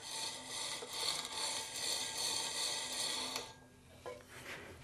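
A skew chisel's bevel rides against a hand-turned sharpening wheel, giving a steady close grinding rasp that runs for a few seconds and then cuts out, leaving a couple of faint scrapes.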